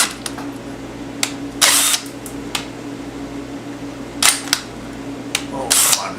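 A drill whirs in several short bursts against a metal hub on a Yamaha Commando Special, with brief pauses between each burst.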